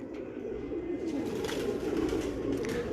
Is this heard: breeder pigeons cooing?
yes